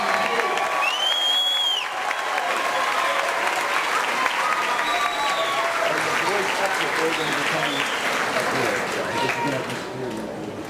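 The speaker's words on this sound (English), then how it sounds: "Let's hear a round of applause for our row 5." Sustained applause from a seated audience at a 2017 team promotional ceremony, steady and full for the whole stretch, with voices calling out briefly over the clapping near the start.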